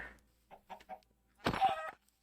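Short clucking calls from a chicken in the game Minecraft, three soft blips and then a louder, busier burst near the end, with no talk over them.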